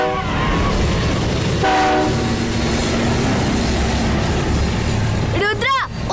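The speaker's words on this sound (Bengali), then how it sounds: "ওই দেখো আমাদের ট্রেন।" A cartoon train rumbles along with continuous rolling clatter, a loud horn blast partway through and rapid whooshing sweeps near the end, heard under a busy animated soundtrack.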